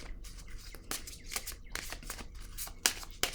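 Tarot cards shuffled by hand in a steady series of crisp riffling bursts and soft slaps, close and moderately quiet over a faint low hum, with no talking.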